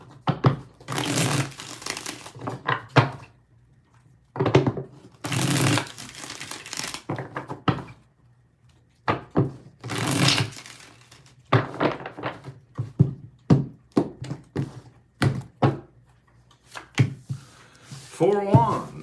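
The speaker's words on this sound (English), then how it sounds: "Let's get four shuffles." Tarot cards being shuffled by hand, a series of short crisp riffling and thumping bursts separated by pauses, close and fairly loud, with brief speech-like sounds between shuffles.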